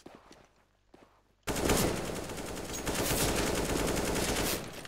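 Gunfire in a Faceit match of a competitive shooter, a few soft early shots and steps, then a sudden loud sustained burst of rapid automatic fire that continues for several seconds.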